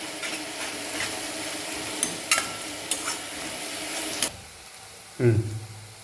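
Chopped onions with salt frying in a pan for rajma, a soft continuous sizzle with occasional stirring and clinks of a spoon, fairly quiet, ending with a brief louder scrape.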